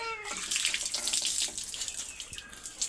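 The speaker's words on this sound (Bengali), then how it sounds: "এখানে কিছু পানি দেই" Water poured into a quail enclosure, a steady close splashing trickle that runs continuously and fills the whole span, with no talk over it.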